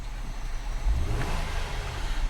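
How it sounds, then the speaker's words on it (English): A gray 2011 Nissan Maxima SV with a 3.5 liter V6 and about 34,000 miles, its engine rising in a short close rev from a low rumble, strong deep tone swelling briefly near the middle. "I'm going to rev the engine."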